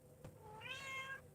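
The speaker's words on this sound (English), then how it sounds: "Oh, she has one meow" A cat meows once indoors, a single fairly soft, rising-and-falling call heard close by, with no talking over it.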